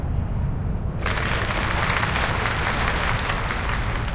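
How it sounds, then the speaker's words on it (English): A crowd in a courtroom scene of the video game Reverse: 1999 gives a dense, steady murmur of approval. It sounds like rainlike noise that swells in abruptly and then holds at an even loudness, with no clear speech. "The crowd mumbles approval."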